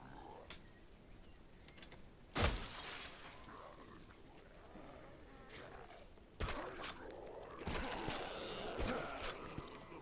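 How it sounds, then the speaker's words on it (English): Window glass shatters as zombies break in during a HumanitZ survival game, one sharp smash followed by scattered crunching and later impacts over a low ambient hum. "Also, they smashed the window"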